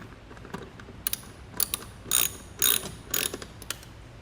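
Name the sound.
10 mm wrench ratcheting to tighten mirror lock nuts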